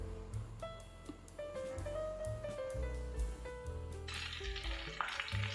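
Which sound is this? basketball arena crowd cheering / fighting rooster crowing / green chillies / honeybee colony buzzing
green chillies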